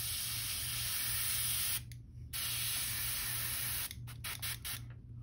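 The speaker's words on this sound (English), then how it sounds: "gonna spray it through my airbrush" Steady airbrush hiss spraying paint onto a crankbait fishing lure, broken by a short pause and then several quick on-off bursts near the end; close and fairly loud.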